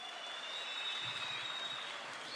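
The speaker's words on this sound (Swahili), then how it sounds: "Wapi makofi ya rais?" A large crowd at the KICC launch of Boda Boda Care claps for President Ruto in a dense, even wash of applause that sounds distant and steady throughout.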